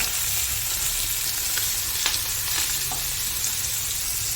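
Sardine pieces frying in hot oil in a pan give a close, continuous sizzle with scattered crackles and pops, no talking over it.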